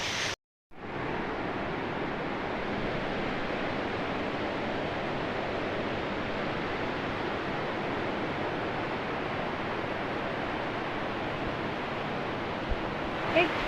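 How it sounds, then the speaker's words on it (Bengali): A steady, loud roar of rushing water fills the whole stretch, broadband and unbroken, from a waterfall in Tripura heard up close, after a brief silent gap at the start. "বেশ বিশ্বাস হবে না এখানে ঝর্ণা আছে অ্যাকচুয়ালি"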